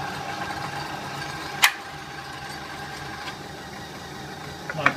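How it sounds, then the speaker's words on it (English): Steady, even hum of a Kenwood Chef A701/A mixer motor running on speed 1 with its cover removed, unchanging in pitch, with a couple of brief sharp clicks. "if you listen carefully, the note from the motor won't change"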